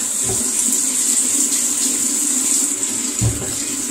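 Hot water runs steadily from a tap, a continuous hiss and splash close by, with a couple of brief knocks near the start and end and no talking.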